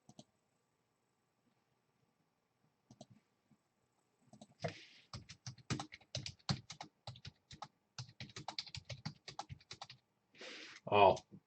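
Computer keyboard typing in bursts of quick clicks through the latter half, starting after a near-silent opening, with brief speech mixed in and a louder burst near the end.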